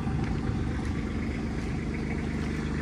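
A tractor engine idles at a large plant nursery, a steady low mechanical drone that holds constant and fairly loud throughout without speech.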